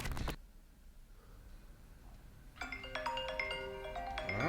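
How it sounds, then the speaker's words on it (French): An alarm clock ringtone starts after a short knock and a quiet pause, playing a bright repeating electronic melody, close and steady until the end. "Horrible cette sonnerie de réveil."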